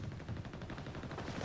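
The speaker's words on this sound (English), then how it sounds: "Machine gun now!" Machine gun fire in the World War II strategy game Company of Heroes 3, a rapid, dense rattle of bursts heard steadily across the clip with no talk.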